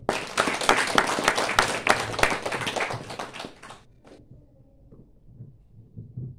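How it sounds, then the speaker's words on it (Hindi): Audience applause at a Nirjala fasting camp in an ashram, dense clapping for about four seconds that stops abruptly, followed by quiet room sound with faint movement. "तालियां।"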